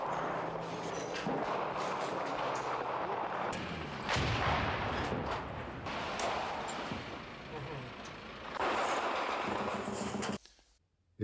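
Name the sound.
artillery shelling in war documentary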